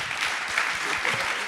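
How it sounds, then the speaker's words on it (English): An audience claps for panelists at an SXSW EDU conference session on philanthropy, a dense, steady wash of applause filling the room for a brief moment. "Can we have a round of applause for our distinguished panelists,"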